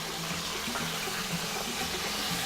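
Water poured into a pot of roughly chopped onion and carrot, a steady close splashing and trickling that fills the whole stretch without pause, with no voice over it.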